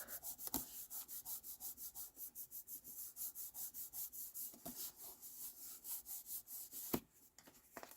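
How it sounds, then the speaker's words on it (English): Glued, textured stamped paper is rubbed firmly onto a notebook cover in quick, rhythmic, soft scratchy strokes, quiet and close, with a sharper knock near the end. "that's why I'm also giving it a good rub"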